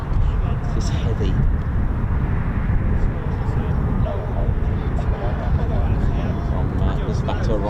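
A heavy aircraft near RAF Lakenheath gives a steady, loud, broad roar that holds for the whole stretch, with someone talking over it.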